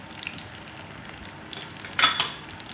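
Chicken keema fries in a pan over a medium flame, a steady soft sizzle with a sharper scrape and clink of the stirring spoon near the end, no one talking.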